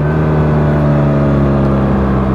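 A BMW R1300GS motorcycle on a test ride, engine droning loud and steady with strong low harmonics and wind rush, holding an even pull throughout.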